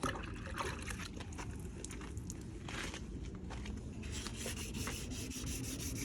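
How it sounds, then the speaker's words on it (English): Continuous wet rubbing and scraping against car paint, a close, gritty swishing of wet sanding that keeps going without pause. "since I'm just wet sanding, it'll be okay where I let it"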